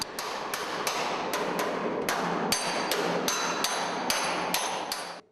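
A small hammer beats a dented steel sheet flat in bodywork repair, striking about a dozen sharp, ringing metallic blows at a steady rhythm, close and loud, with no speech.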